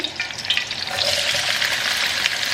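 Chopped onion drops into about one and a half spoons of hot oil. A soft sizzle swells into a steady, bright crackle that fills the rest of the moment, with no talking.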